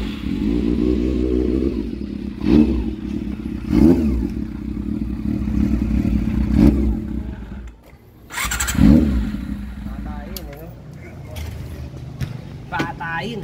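A Steed 400 motorcycle with CDI and carburetor trouble idles unevenly nearby, its engine chugging under a voice speaking, with several sharp revving bursts and clattery surges along the way.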